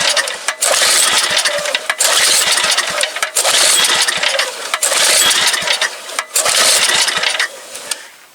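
A Troy-Bilt rototiller's small engine runs rough and loud, surging and dipping in uneven pulses as its air-fuel mixture is adjusted, then fades near the end.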